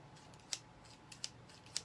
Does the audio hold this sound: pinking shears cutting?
yes